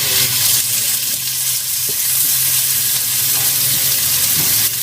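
Onion and garlic frying in hot oil in a village kitchen, a loud steady sizzle close by that crackles and hisses continuously with faint stirring beneath, no voices.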